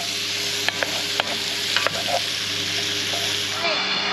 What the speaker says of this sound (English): We got to get these onions soft, and then we got to caramelize them.